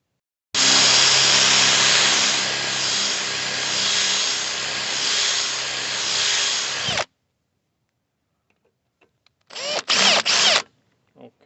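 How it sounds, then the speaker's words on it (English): A power drill bores a hole into a rivet head on a RipStik caster board, running loud and steady for about six seconds, then a few short bursts of drilling after a pause. "I'll just drill a hole where X marks the spot."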